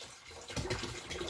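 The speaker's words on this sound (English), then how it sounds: "I am going to put almost equal parts water and vinegar" Water and vinegar are poured in roughly equal parts into a container, a soft steady trickle that starts partway through and runs on quietly.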